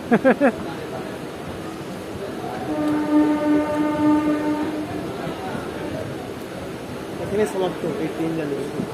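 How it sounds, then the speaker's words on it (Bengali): An inaugural special train on the Azimganj–Cossimbazar line pulling into Cossimbazar station, its horn sounding long and loud over rumbling carriages, with people talking nearby throughout. "এই যে কাশিমবাজার প্ল্যাটফর্মে ঢুকে গেছে।"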